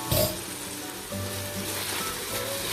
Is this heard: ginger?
yes